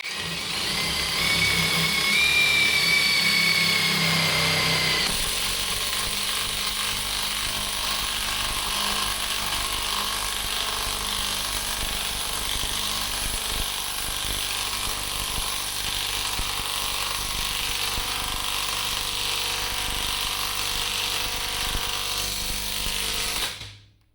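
A cheap AliExpress impact wrench runs steadily at its second speed, a loud, continuous buzzing rattle of the hammer mechanism lasting over twenty seconds before cutting off abruptly, after a brief higher-pitched whine at the start.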